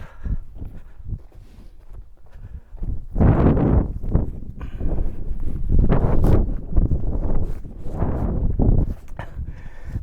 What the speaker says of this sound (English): it's so bloody windy, just non-stop